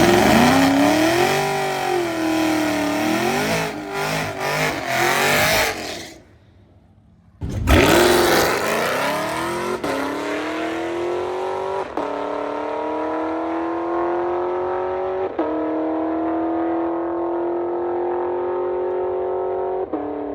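Camaro drag racing on 28-inch bias ply tires, the engine revving loudly and climbing through gears, a brief drop before a hard launch, then rising pitch with distinct shifts as it pulls away.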